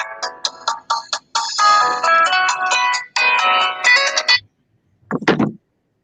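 A cellphone ringtone playing a bright, melodic tune in quick repeated phrases, loud and close, ending abruptly, followed by a short burst of another sound.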